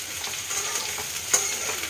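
Sliced bitter gourd frying with green chillies and poppy seeds in a pan, a brief, even hissing sizzle with one faint scrape or stir, no voices.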